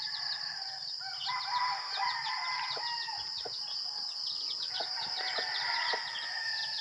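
Roosters crow and chickens cluck and chirp together outdoors on a farm, a dense busy chorus of fowl with a constant high buzz of insects or birds behind.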